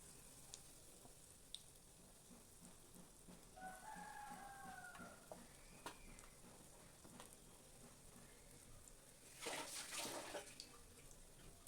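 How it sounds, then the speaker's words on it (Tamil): Small pieces of ripe-banana bonda batter fry in hot oil with a faint, steady sizzle, broken by a few soft pops and a brief louder hiss of bubbling near the end. "அடுத்து இதே மாதிரி கொஞ்சம் மாவு எடுத்து சின்ன சின்ன போண்டாவாக கிள்ளி போட்டுக்கலாம்"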